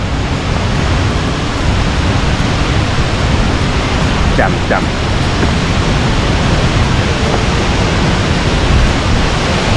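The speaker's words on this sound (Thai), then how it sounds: "เลยไปดูน้ำตกกันดีกว่า" A mountain waterfall roars with heavy spray, a loud, dense, unbroken rush of water filling the whole clip, with a brief faint voice in the middle.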